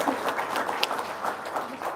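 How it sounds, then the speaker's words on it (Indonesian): A small crowd claps briefly, a dense patter of hands lasting a couple of seconds at moderate volume. "Tepuk tangan dong."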